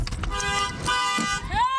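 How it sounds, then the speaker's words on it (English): Car horns honk in several overlapping toots, loud and close, over street noise and raised voices during a street fight beside a flower vendor near the 105 freeway in Lennox. "You can hear as people honk their horns in hopes of stopping the punches."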